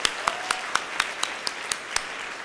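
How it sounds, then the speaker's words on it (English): An audience claps at a talk, a sparse, evenly spaced run of about ten distinct claps over a couple of seconds, close and fairly faint, with no voices. "Let's give those a round of applause"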